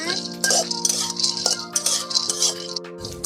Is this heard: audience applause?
no